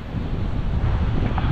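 Strong waves crash against the shore in Kuwait as wind buffets the microphone, producing a steady, loud roar of rumbling surf and gusts with no pauses.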